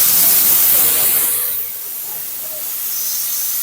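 A pressure cooker with rice and dal vents steam in a strong, close hiss that eases to a softer, steady hiss partway through.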